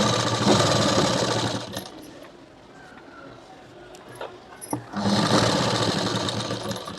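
Sewing machine stitching darts on a small girl's blouse, two close bursts of rapid whirring stitching separated by a quieter pause with faint handling clicks.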